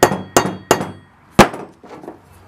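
One of the smallest screw extractors is tapped into a stuck screw with a hammer: four sharp metallic knocks in quick succession, close and alone, followed by a couple of softer taps.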